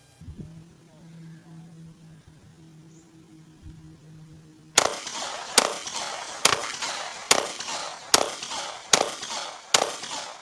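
Sharp, loud pistol shots from a Walther PDP and a Smith & Wesson M&P ring out in an evenly spaced string of about eight reports after a quiet stretch with low hum.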